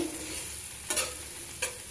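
Eggs sizzle in hot oil in a pan while being stirred, a close steady frying hiss broken by two brief scraping strokes of a utensil.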